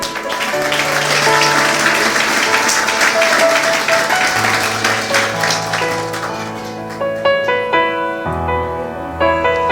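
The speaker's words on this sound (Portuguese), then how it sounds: "Aplauda Jesus." A church congregation applauds loudly during a sermon, dense clapping for about four seconds before fading as sustained keyboard chords and music take over.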